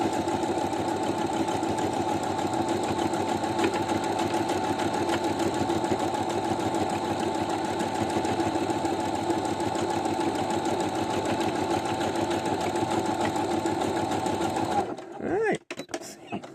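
A new sewing machine runs steadily while stitching a triangle pattern, its fast, even mechanical whir holding for about fifteen seconds before stopping abruptly, with a few faint clicks and handling sounds at the end.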